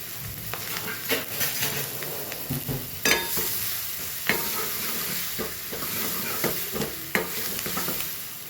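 Onion, tomato, green chili and curry leaves frying in hot oil with asafoetida, a continuous loud sizzle broken by repeated stirring scrapes and clinks of a spoon against the pan.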